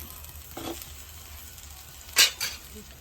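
Chili powder frying in hot oil in a pan, giving a soft, continuous sizzle with a few brief clinks of stirring near the end.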